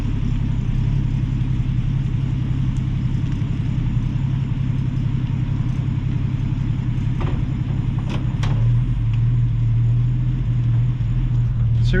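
A 1965 Ford Mustang restomod engine runs steadily in a garage, a low continuous rumble with a noticeable rise in pitch and loudness near the end as it is revved, plus a few brief sharp clicks.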